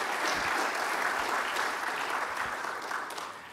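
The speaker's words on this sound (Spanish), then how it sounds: "Un aplauso también para Paolo De Salvo." An audience at an agricultural research institute's presentation applauds a speaker, a steady, moderately distant wash of many hands clapping that slowly fades toward the end.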